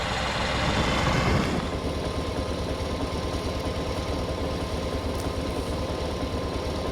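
A tractor engine runs steadily in a hayfield, a loud, close, continuous low rumble with a faint rhythmic knock, slightly louder at the start and then holding even with no talk over it.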